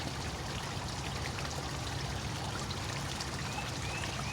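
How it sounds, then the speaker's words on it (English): Constant rushing, splashing water of a small pond waterfall, steady and moderately close, with no other sounds or voices. "Again, there's the waterfall."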